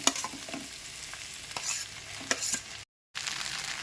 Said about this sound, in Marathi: आपण जो कुक करून घेतलेला राईस आहे तो आपण आता त्यामध्ये मिक्स करणार आहोत